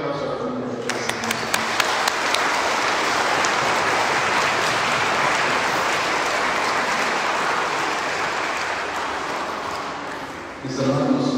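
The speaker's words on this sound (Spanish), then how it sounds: "Les damos un aplauso a la familia de Dios." A congregation at a Catholic Mass breaks into sustained applause that swells into a dense wash of clapping, then fades as a voice resumes at the end.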